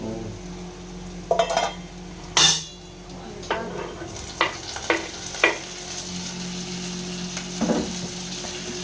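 Food spluttering and crackling in hot oil in a home kitchen pan, with a steady low sizzle broken by a few sharp pops and clinks of utensils against the pan, close and moderately loud.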